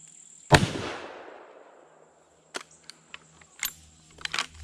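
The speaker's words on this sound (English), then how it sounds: "the Marlin up first. Gonna shoot it right into that right hand side." A Marlin .30-30 lever-action rifle fires a single sharp shot with a long decaying echo, followed by a few fainter clicks and clacks of handling.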